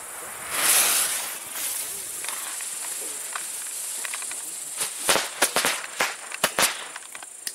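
A Frogs B firecracker by Keller goes off outdoors at dusk, opening with a hiss and then a quick cluster of sharp, loud cracks and pops in an irregular burst near the end.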